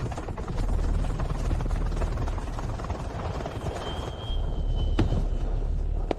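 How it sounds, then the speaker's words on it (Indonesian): A helicopter arrives with a loud, continuous rotor drone and low throbbing thud that hold steady throughout, joined by a brief thin whine and a sharp click near the end. "Dia datang dengan helikopter"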